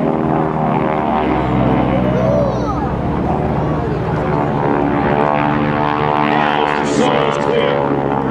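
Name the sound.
GEICO Skytypers propeller aircraft flying airshow maneuvers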